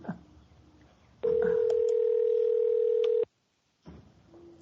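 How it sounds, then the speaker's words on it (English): A steady electronic telephone tone holds loud for about two seconds, cuts off, then faint background sound returns; no speech over it. "it's hard to talk when the phone's ringing"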